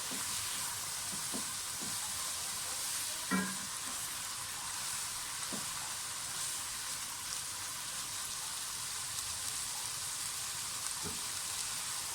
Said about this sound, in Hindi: फ्राई करूँगी चिकन में, ज़्यादा देर नहीं, सिर्फ कुछ सेकंड्स के लिए।